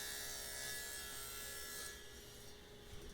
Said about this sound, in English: that tab that we have to trim off